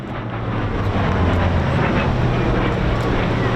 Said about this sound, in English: the sound of the Hawker Fury